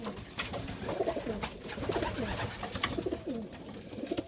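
Racing pigeons coo in a loft, a young sail bird and a half stick pigeon among them, repeated soft throaty coos layered over each other at close range amid rustling and background noise, with no talk.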